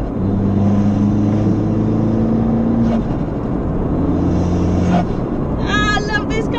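A modified, lowered Abarth in sport mode revs and pulls steadily under load in third gear, a deep rising drone with road rumble, then a brief higher whine near the end.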